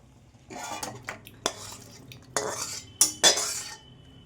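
A metal pan is handled while chicken pizza is being cooked, giving several sharp clanks and scrapes of utensil against metal in irregular bursts, fairly close, with no one speaking.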